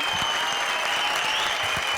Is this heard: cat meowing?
no